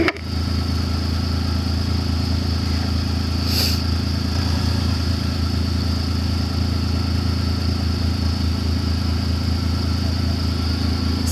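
A 2015 Kawasaki MULE PRO-FXT side-by-side utility vehicle engine drones steadily throughout, driving in four-wheel drive low with a constant loud mechanical hum and a brief high rattle midway.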